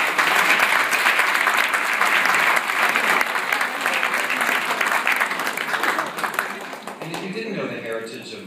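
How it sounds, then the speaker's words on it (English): Audience applause at a Saks Fifth Avenue fashion event in Palm Beach, Florida: steady, dense clapping from a large crowd that runs loud and continuous before thinning and fading out near the end. "Give Brian a big round of applause."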